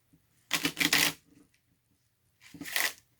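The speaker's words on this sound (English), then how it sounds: "You're going to shuffle them." Two quick riffling bursts of playing cards being shuffled, a longer one followed by a shorter one after a pause, close and fairly loud.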